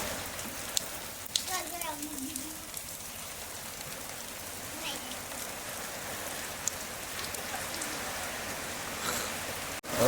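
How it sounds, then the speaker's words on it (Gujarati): Steady rain falls outdoors as a continuous broadband hiss with scattered drop impacts, moderately loud and filling the whole scene, with faint voices now and then underneath. "હવે ગજબ ને ભાઈ વરસાદ હવે ચાલુ થઈ ગયો છે."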